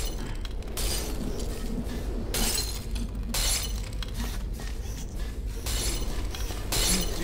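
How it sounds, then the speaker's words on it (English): Glass panes in Portal 2 are struck and shatter in several bright, crashing bursts separated by short gaps, loud against a steady game background hum. "It's not breaking that part of the glass, bro."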